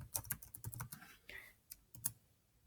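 Quick bursts of typing on a computer keyboard while filling in blanks on a document, crisp close clicks in short clusters with pauses between them.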